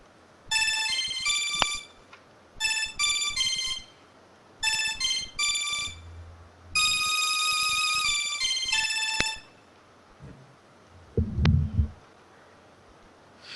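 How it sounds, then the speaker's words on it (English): A phone ringtone plays a bright electronic melody in repeated short bursts with gaps between phrases, followed by a sustained tonal passage, then a brief low thump near the end, all fairly quiet and close. "It sounds like a ringtone because it's a ringtone."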